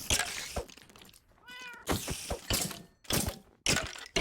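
Cat meows from the Minecraft video game, several short bright mews in quick succession with gaps of silence between them, no talking.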